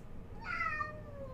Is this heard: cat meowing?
yes